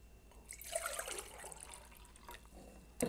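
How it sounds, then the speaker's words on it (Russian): Water pours into a Tiama kettle in a broad, steady splashing stream that swells then tapers over a few seconds, close by, ending with a brief clatter. "Так, наливаю сюда воды."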